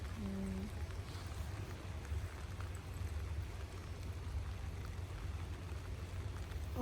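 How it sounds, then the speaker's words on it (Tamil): A boat engine runs at a steady low drone on a trip in Scotland, a constant rumble that holds for the whole stretch with faint wind and water noise around it and no voices. "இன்ஜின் ஆன் பண்ணிட்டான்."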